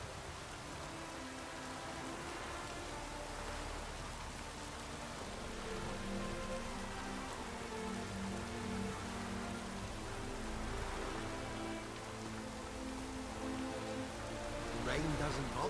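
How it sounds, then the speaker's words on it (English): Steady rain in The Witcher 3: Wild Hunt patters down on surfaces, a continuous soft hiss with faint low rumbling underneath. "Rain doesn't bother you, it seems."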